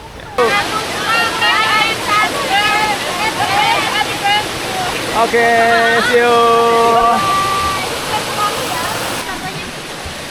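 River water rushes in a steady, loud wash. Voices and higher calls are heard over the flow.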